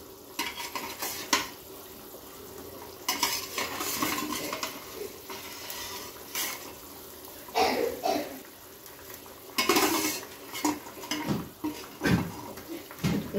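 Fried catla fish goes into a bubbling cauliflower and potato curry, with a spoon stirring and knocking against the pot in irregular bursts over a soft simmer.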